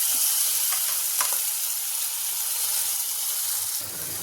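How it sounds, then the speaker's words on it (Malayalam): Kootu curry, an Onam dish, is stirred in a hot pan under a constant close sizzling hiss, with a few soft scrapes of the spoon early on and no talking. "ഇട്ടിട്ട് നമുക്കൊന്ന് ഇളക്കി കൊടുക്കാം നല്ലതുപോലെ ഒന്ന് ഇളക്കി കൊടുക്കും"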